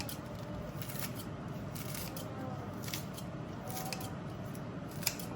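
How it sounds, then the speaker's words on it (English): Scissors snip lettuce into fine shreds for a Vietnamese bun thang noodle soup, giving soft, quick crisp cuts against a quiet kitchen background. "So I'm going to just use scissors and cut it up really easily instead of using a knife."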